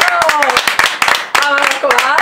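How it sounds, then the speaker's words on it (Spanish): A crowd claps along in rhythmic bursts at a live Andalusian television broadcast, close and loud, with voices shouting and talking over the clapping. "¡Un aplauso!"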